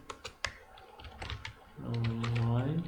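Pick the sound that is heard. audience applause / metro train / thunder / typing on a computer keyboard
typing on a computer keyboard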